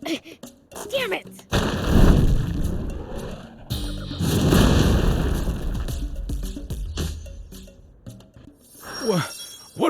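Cannon fire in the video game Sand Land, heavy booming blasts with long rumbling tails arriving in two big waves, voices speaking briefly between and after them.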